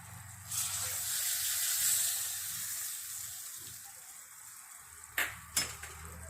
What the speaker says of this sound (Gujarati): અને શાક આપણે સારી રીતે મિક્સ કરી લઈશું હવે